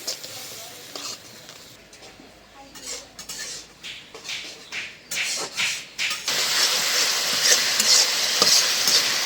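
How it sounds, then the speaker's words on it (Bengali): A spoon scrapes and stirs ground spices in a frying pan, with salt, turmeric, chili, coriander and cumin powders and a paste. The strokes come in repeated bursts, then settle into a loud, steady sizzle, with a faint whisper in the background. "মশলা ভালো করে কষাই নিলাম"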